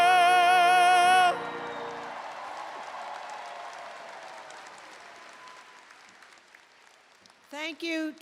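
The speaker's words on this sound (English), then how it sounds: "A round of applause again, please." Graduation commencement audience breaking into applause right after a sung alma mater ends, the clapping swelling then tapering off over several seconds, with a brief voice returning at the close.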